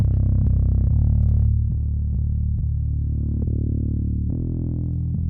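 Bass guitar with added harmonics from the Laney Digbeth plugin plays a run of held notes with clear attacks. The tone is full and slightly buzzy with extra upper overtones, heard alone at a steady, moderately loud level.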